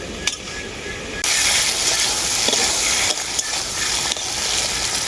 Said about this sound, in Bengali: আদাটাকে আমি খুব ভালো ভেজে নিয়েছি কাঁচা গন্ধটা বেরিয়ে গেছে